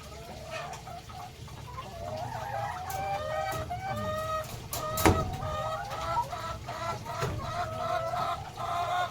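Rhode Island and Dekalb Brown hens cackling: repeated rhythmic clucking calls, close and fairly loud, from several birds at once, with a louder squawk near the middle over steady coop ambience.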